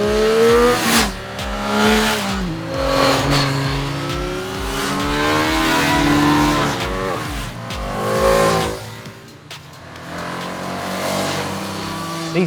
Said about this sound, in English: These bikes have got raucous engines with not too much power